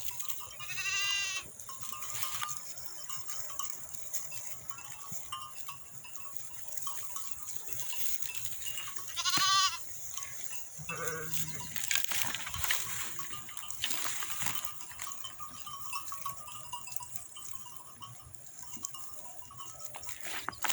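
Dairy-breed sheep, including thin ewes nursing twin lambs, bleating in a farm pen, with a few distinct calls standing out over quiet background shuffling and scattered noises.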